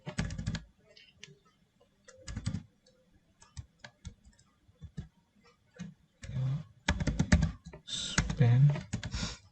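Bursts of close keyboard typing while HTML and CSS are written, scattered clusters of clicks broken by quiet gaps, growing busier and louder toward the end, with no talking.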